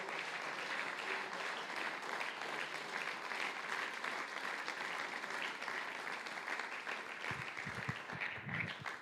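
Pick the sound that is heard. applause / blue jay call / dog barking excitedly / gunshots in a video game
applause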